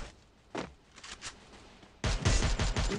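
In a squad video game match, a quiet patch with a few isolated shots gives way to a loud, rapid burst of automatic gunfire in the last second.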